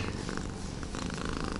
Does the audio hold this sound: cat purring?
yes